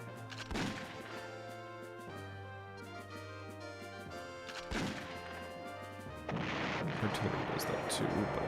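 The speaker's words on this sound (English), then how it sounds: "We'll use those strategic bombers to soften up the enemy position." Strategic bombers strike an enemy position in the retro PlayStation war game Panzer General, with several heavy crashing impacts spread over a droning musical backdrop, ending in a louder rumbling burst.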